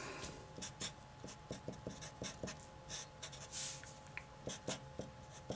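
Marker strokes scratch on a board during a math lesson on graphing rational functions, a series of quick squeaky strokes in short irregular bursts, quiet and close with no talking.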